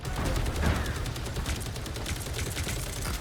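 Punisher's rapid automatic gunfire in the Marvel Rivals video game, a steady rattling stream of shots with no pause, loud and close.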